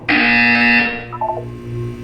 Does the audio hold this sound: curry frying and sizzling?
no